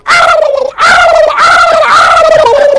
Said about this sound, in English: I'm talking, they gobbling everywhere.